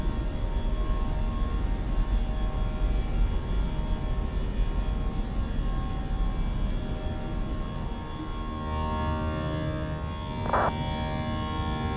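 Fenix A320 jet engines roaring after takeoff from Heathrow in Microsoft Flight Simulator 2024, a continuous loud broadband rush with steady whining tones, a brief chime near the end, no voices.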